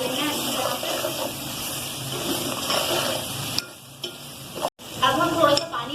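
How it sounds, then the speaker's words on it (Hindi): Onions and spices for soybean keema are stirred in a frying pan, giving a continuous sizzle with scraping spatula strokes, a brief lull near the end, then the frying resumes. "अब इन सब चीजों को मिला लेना है अच्छी तरह से।"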